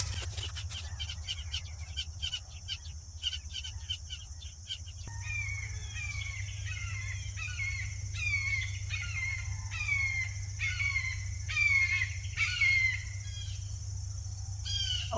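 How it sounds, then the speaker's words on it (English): Crow-like caws ring out repeatedly in an outdoor garden, a rapid series of calls at first, then a steadier run of rhythmic caws over a low constant hum, moderately near. "Okay, bird."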